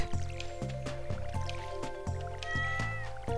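Watering can splashes from Stardew Valley gameplay come as a series of about six regular, squishy drip and pour sounds over looping game music.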